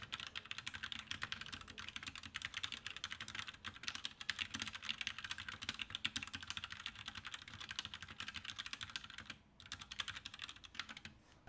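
Steady, rapid clacking of a mechanical keyboard with linear Gateron Yellow switches in a plastic case, continuous typing up close with a brief pause near the end.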